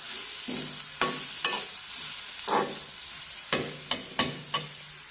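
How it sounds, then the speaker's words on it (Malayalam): Shallots and mustard seeds sautéing in a pan give a steady low sizzle, broken by several sharp scrapes and taps of a spatula on the pan, some close together, heard up close. "ചുവന്നുള്ളിയും എല്ലാം കൂടെ കടു ഇട്ട് കൊടുത്ത് നന്നായി ഒന്ന് വഴറ്റിയെടുക്കാം"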